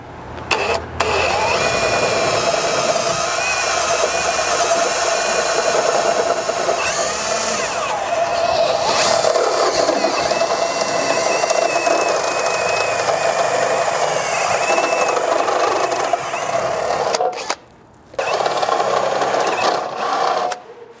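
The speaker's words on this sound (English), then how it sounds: "we're going to drill these out to accept 1/2 inch hardware. I'm just using a step style bit or unibit" A step drill bit bores holes in a metal bed stiffener bracket for a 4th-generation Toyota Tacoma, a loud, continuous power-drill whine with grinding metal texture, briefly stopping and restarting near the end, with no talking.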